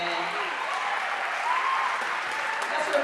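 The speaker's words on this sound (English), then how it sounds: "Let's give them a round of applause again." A Founder's Day celebration crowd gives steady, continuous applause that fills the room evenly at moderate loudness, with faint voices mixed into the noise.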